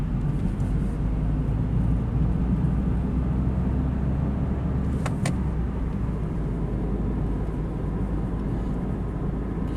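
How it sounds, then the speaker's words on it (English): A Smart car's small three-cylinder engine hums steadily from inside the cabin while crawling in traffic, a continuous low drone with a brief brighter tone partway through. "the little 3-cylinder does have a nice little hum to it when it gets going"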